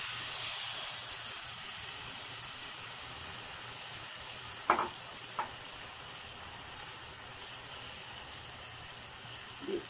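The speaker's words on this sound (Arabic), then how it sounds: "نزل الصلصة" Tomato sauce sizzling in a hot pan for Egyptian lamb fatta, a steady frying hiss throughout with a few brief clinks of stirring near the middle and again at the end, no voices.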